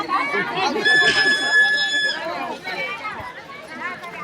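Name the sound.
crowd chatter in a village fair market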